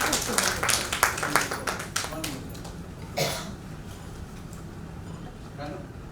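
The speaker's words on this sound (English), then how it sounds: "So a big round of applause for Shyamastri Sen." Applause for an honoured guest at a women's empowerment event: scattered claps that thin out and fade within a few seconds into a quiet room, with murmuring under them.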